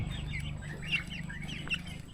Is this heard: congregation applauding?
no